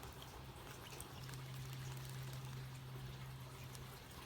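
Liquid fish fertilizer water pours steadily into a houseplant pot, a soft, faint, continuous trickle against low room hum, with no voices.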